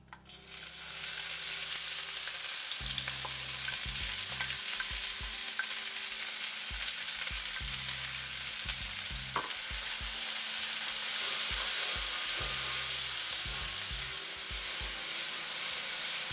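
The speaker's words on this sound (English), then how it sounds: "We'll continue to saute the onions until they turn to a light brown." Onions sauté in hot oil in a pan with a bay leaf, a continuous close sizzle broken by repeated bursts of spatula scraping and stirring, and no one speaking.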